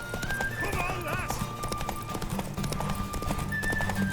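Horse hooves clip-clop steadily in The Witcher 3 while a horse neighs and whinnies, all under ongoing talk and ambient game sound.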